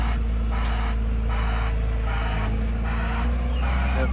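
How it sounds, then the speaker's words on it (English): At a junkyard, a forklift lifts and lowers a vintage Honda car, its heavy diesel engine droning loudly and steadily with a repeating pulsing hiss throughout. "forklift driver is nice enough and he's grabbing the CB9, put it on the ground for me."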